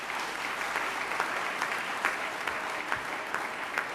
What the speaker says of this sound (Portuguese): Abel Chivuco, para quem peço mais uma salva de palmas.